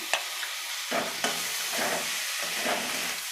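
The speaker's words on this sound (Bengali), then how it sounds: "মাশরুমটা দিয়েও আমি আবার নাড়বো।" Mushrooms frying in a pan with green chilli, stirred in slow strokes: bursts of hissing sizzle rise and fall with each pass, and a few sharp clicks of a spoon on the pan stand out at the start.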